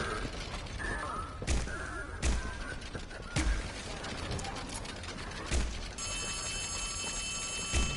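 An in-game telephone rings in Poppy Playtime Chapter 4, a steady electronic tone beneath intermittent mechanical clanks and ratcheting thuds, loud and close in the game mix.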